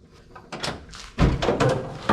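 A steel door on a chopped 1951 Ford Shoebox rat rod is swung and shut, giving a few close metallic thunks and a solid closing clunk, with no speech.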